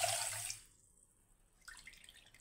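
Water is poured into a pan to make sugar syrup for kala jamun: a faint, short splashing pour, a brief near-silent pause, then a second quieter trickle.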